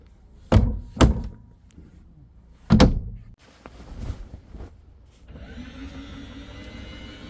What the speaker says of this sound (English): just play with the emergency exit door